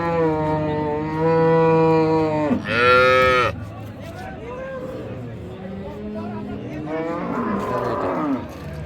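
A Friesian cow lets out a long, loud moo, then a second short bellow, followed by lower lowing and people talking nearby at a cattle market.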